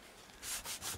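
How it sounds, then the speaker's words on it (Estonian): Sandpaper rubs across a wooden box to scuff it for paint, several quick rasping strokes in a steady rhythm, close and alone. "Lasti teen liivapaperiga matiks, et värv kinni jääks."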